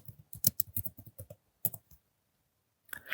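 Quick keystrokes typing a search keyword into Google Scholar on a computer keyboard, a brisk run of close, crisp clicks that stops, then a final burst of clicking after a pause, with no talking.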